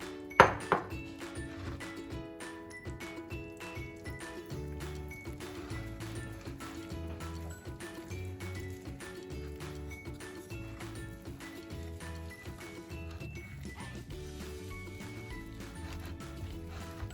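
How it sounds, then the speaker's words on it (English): Playdough ingredients, wet poured into dry, are stirred in a bowl, giving a steady run of soft clinks and scraping taps against the bowl, close up and with no talking. "Gonna mix."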